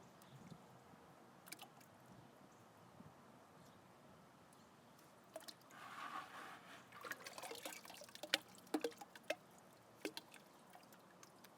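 Wild clay lumps worked by hand in water, faint wet squelches and small splashes at first, then a cluster of sharper drips and slaps toward the end; close but quiet, with no talking.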